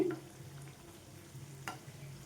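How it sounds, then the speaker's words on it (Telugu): Rice flour bondas made from fermented batter, frying in oil over a medium flame, giving a quiet, soft sizzle with a couple of brief crackles. "ఇప్పుడు ఫ్లేమ్ మీడియంలో ఉంచేసుకోండి ఉంచేసుకొని ఈ విధంగా వేయించుకోవాలండి"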